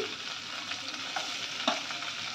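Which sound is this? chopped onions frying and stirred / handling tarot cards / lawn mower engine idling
chopped onions frying and stirred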